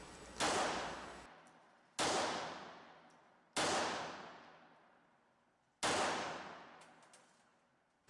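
Four sharp shots from a Taurus PT 58 S .380 Auto pistol at a shooting range, each a loud crack followed by a long decaying echo, spaced unevenly over several seconds with no voices.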